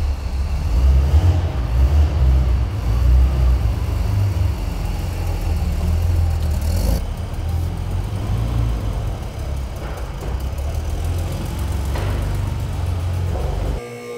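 A Porsche 930 with no throttle response idles steadily and close up, a low rumbling drone running nearly unbroken throughout with no one speaking.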